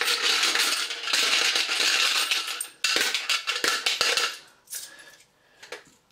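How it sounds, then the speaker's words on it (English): Coins clatter and rattle out of a Pac-Man money box, a dense metallic jingle that runs loud and close for several seconds, then thins into a few scattered clinks. "take a few coins out of it there"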